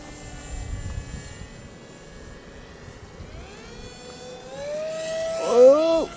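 Heavy model airplane in flight, with a steady engine drone whose pitch slides upward and then swoops in the last second as it passes close, under faint wind and background noise.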